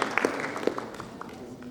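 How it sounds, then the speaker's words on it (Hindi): Scattered, light clapping from an audience at a poetry evening, a few close claps at the start that thin out into a soft patter. "आपकी तालियां भरपूर होनी चाहिए"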